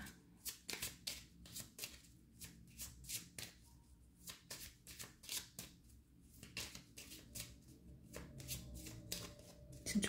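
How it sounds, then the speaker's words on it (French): Medicine cards are shuffled by hand for a reading, producing repeated soft riffling and slapping bursts in an uneven rhythm, close and fairly quiet. "je vais vous tirer vos petites cartes, des cartes médecine"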